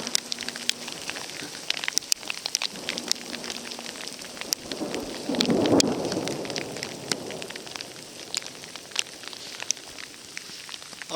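On an exposed mountain pass in Yoho National Park, rain patters steadily while a low rumble of thunder swells near the middle.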